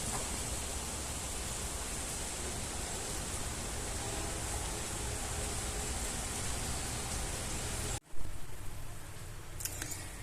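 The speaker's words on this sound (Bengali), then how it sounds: "বাহিরে অনেক বৃষ্টি পড়তেছে।" Heavy rain pours outside at night as a dense, steady roar that fills the scene, then cuts off abruptly near the end, leaving a few faint clicks and no talking.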